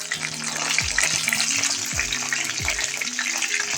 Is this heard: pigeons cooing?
no